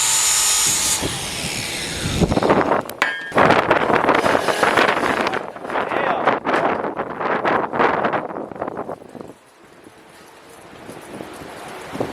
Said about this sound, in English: that was a pretty serious gust of wind